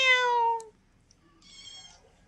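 A kitten gives a single clear, drawn-out meow up close, then a fainter, higher second cry follows after a brief pause, in a quiet rural home setting.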